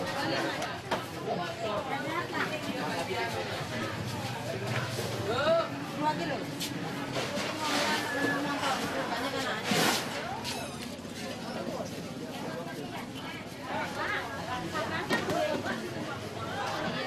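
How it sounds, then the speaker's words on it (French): A busy fish market at Jimbaran, Bali, where fishermen and buyers gather, fills with overlapping chatter and scattered voices, a dense crowd babble with occasional sharp clatter and a passing vehicle in the background. "Son marché aux poissons est un lieu stratégique où pêcheurs et acheteurs se retrouvent chaque jour."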